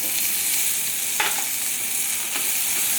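Onion-tomato masala paste fries in oil for pav bhaji, giving a continuous close sizzle with a couple of sharper clinks and scrapes from stirring.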